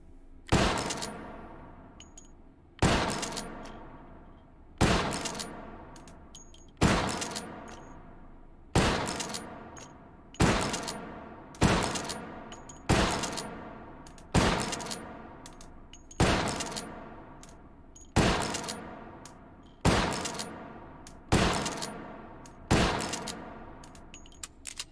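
Winchester 1873 lever action rifle shots in the H3VR game, about a dozen loud sharp reports fired one by one at a steady pace of roughly two seconds apart, each with a decaying tail and lever clicks between.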